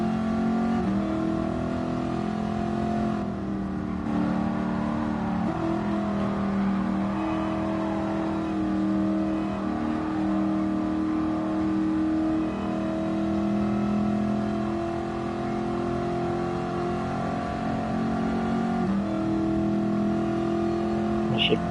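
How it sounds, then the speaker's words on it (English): A car engine in Gran Turismo Sport drones steadily at a constant pitch for the whole stretch, close and even with little change in loudness. "Just listen to the engine."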